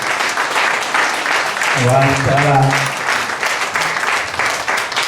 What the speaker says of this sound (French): On va tous se lever pour l'applaudir.